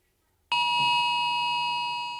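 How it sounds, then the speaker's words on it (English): An emergency alert alarm blaring from mobile phones across the UK, starting abruptly and holding a loud, steady, piercing multi-tone electronic sound for nearly two seconds before slowly easing off. "That alarm went out, sent to many of us on our mobiles around the country with an accompanying message."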